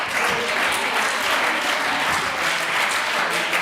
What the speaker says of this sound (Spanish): Estás aplaudiendo